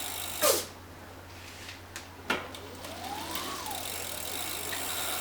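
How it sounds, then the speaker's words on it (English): Flux electric bike motor whirring up on the throttle, a faint rising and falling whine after a couple of sharp clicks. "just to test it out, see if it's got power, I'm gonna hit the throttle here"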